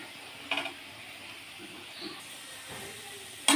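Potato pieces fry in hot oil in a home kitchen, giving a steady soft sizzle and hiss with a few brief stirring clatters, no voices over it.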